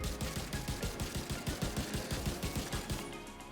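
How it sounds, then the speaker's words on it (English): Sustained rapid gunfire from the Vindicator rifle in The Division 2, a long-range crit build, with about twenty evenly spaced shots over three seconds, loud and close, with no voices. "I'll start shooting enemies to start getting critical hits and building even more momentum"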